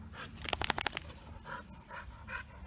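Dogo Argentino puppy panting during evening playtime, a quick run of rhythmic breathy huffs up close, followed by softer, fainter breaths.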